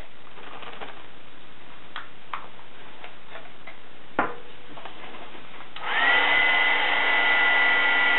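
A heat tool switches on and blows with a steady whirring hum as it heats sparkle embossing powder on a card. The sound starts after a few soft ticks and taps and continues for the last couple of seconds.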